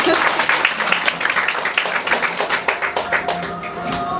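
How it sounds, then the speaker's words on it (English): Wedding guests applaud during a ring ceremony, a dense steady wash of clapping from a sizable crowd, loud and continuous throughout with faint voices mixed in. "Give a big round of applause, ladies and gentlemen."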